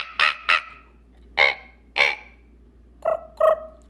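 A throat singer imitates a raven call, giving six loud, harsh croaking caws in spaced pairs and singles, close up and alone against a quiet background.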